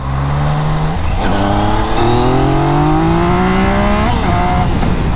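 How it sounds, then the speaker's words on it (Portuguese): A Yamaha MT-09 motorcycle accelerates hard through several gears, its engine pitch climbing in long rising sweeps broken by brief dips at each shift, loud and close throughout. "Mano, eu vou dar uma acelerada agora com essa moto, eu vou dar uma esticada, rapaziada."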